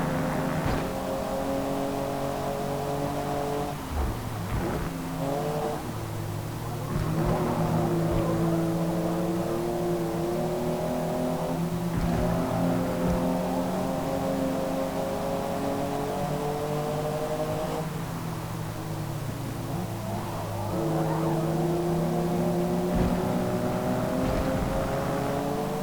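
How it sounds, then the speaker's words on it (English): A racing car built as a road-legal machine in Forza Motorsport revs hard through its gears, a loud, steady engine whine that rises and drops with shifts across the whole lap, with no talking. "it is basically a racing car for the road"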